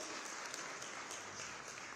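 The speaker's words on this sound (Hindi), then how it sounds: "आपका स्वागत अभिनंदन जोरदार तालियों के माध्यम से करें।" An audience at the Uttar Pradesh Day honours ceremony in Lucknow applauds the chief minister, a quiet, steady wash of clapping that sounds distant and even throughout.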